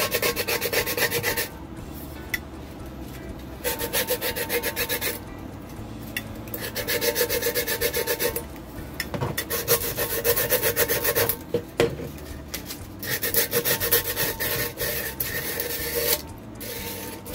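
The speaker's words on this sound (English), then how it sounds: "I am going to sand this rim on the inside because it is sharp" Sandpaper rubbing back and forth over the sharp inner rim of a storage container, a close, continuous rasping scrape in uneven strokes with brief pauses, no talking.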